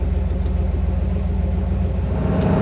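A 1950 GMC 3100 pickup truck engine idles close by, its steady low rumble continuing with even pulsing as the truck is put in drive, with no talk over it.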